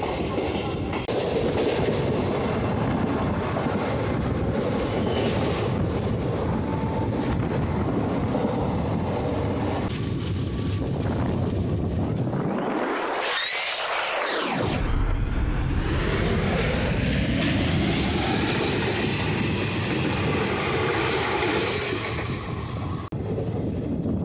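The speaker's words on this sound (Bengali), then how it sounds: "আমাদের ট্রেন রামপুরহাট জংশন ছেড়ে চলে যাচ্ছে।" The Kanchenjunga Express, in sleeper class, pulls out of Rampurhat Junction with a steady close rumble and rhythmic wheel clatter, and a brief rushing swell rises partway through.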